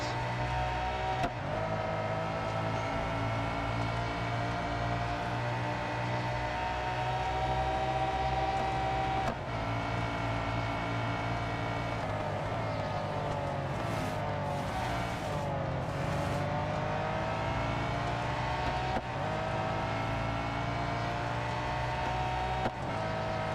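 Race cars in the mobile racing game Real Racing 3, continuous droning engine tones that shift in pitch as the cars accelerate and brake through the laps, loud and steady with no talking.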